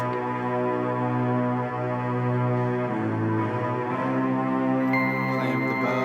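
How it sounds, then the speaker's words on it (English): Sustained string-like synth violins layered in a hip-hop beat, holding steady chords that change partway through, loud and continuous, with a brighter high tone entering near the end. "I added in some violins that sound like this."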